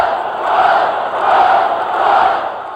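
A stadium crowd at County Stadium chanting in unison, a loud, distant-sounding roar that swells and dips in a steady two-beat rhythm.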